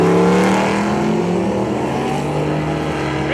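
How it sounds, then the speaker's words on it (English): A short wheelbase race car at drag racing qualifying at Grand Bend Motorplex gives a continuous loud engine roar, steady and close, with no talk over it. "Short wheelbase car."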